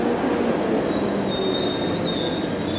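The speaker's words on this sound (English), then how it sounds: "here's a train from the city." A London Underground train rumbles into Edgware station with a steady roar and high, drawn-out wheel squeal, loud and close, with no voices.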